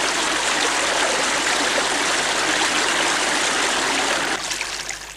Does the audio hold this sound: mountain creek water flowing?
yes